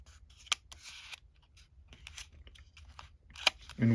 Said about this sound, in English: Now I just have to cut it down to where it is on the sides.